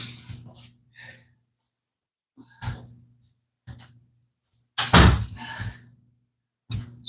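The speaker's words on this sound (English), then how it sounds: "Hold on, let me close the door because the bird." Door pushed shut indoors, one firm thunk near the middle amid short breaths and quiet shuffling, with a few brief soft knocks around it.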